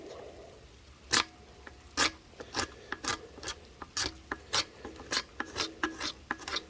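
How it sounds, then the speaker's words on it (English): A blade scraping the factory finish off a garden tool, a series of sharp close rasping strokes, about a dozen quick scrapes in an uneven rhythm over quiet background. "I'm not trying to slice it off. I'm just scraping."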